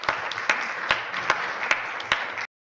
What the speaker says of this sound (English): They're clapping like he just passed his 3rd grade reading test